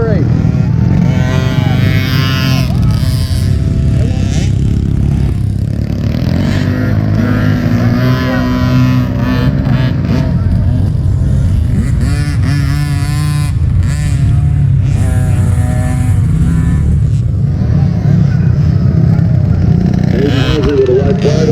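A 7-year-old's motocross dirt bike engine revs loudly and close at a race, rising and falling in strained bursts as it struggles to accelerate, with voices talking over the engine noise.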